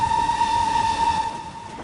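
A train whistle from the Samson engine in a video game gives one loud, steady tone for about a second and a half, then stops over a low rumble. No one speaks.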